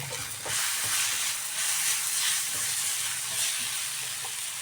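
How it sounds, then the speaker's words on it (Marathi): Spices, amchur powder, chopped tomato and coriander being sautéed in a pan for a bitter gourd curry, a steady close sizzle with faint stirring scrapes throughout and no talking. "थोडीशी कोथिंबीर टाकून छान हे मसाले आपण परतून घेऊया"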